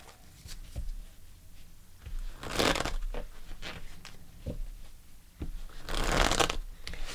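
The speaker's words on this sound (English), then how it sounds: "Let's pull an additional card for you." Tarot cards shuffled by hand in several bursts of riffling and crisp flicking, close and fairly quiet, with soft pauses between the bursts and no talking.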